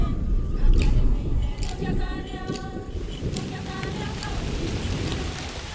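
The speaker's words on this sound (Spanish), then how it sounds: "Grandes cúmulos se forman sobre la sabana reseca y con 3 años de retraso descargan por fin la lluvia" Heavy rain pours steadily onto dry savanna in a dense hiss, with a low rumble underneath and a faint voice at times.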